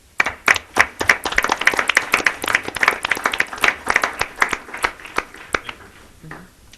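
Applause from a small group at a Chicago Park District board meeting, scattered individual hand claps forming an uneven, moderately close patter that tapers off near the end, with no talking.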